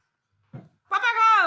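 A person imitates a cat's meow with a long, drawn-out, falling vocal meow, loud and close, following a brief murmured sound.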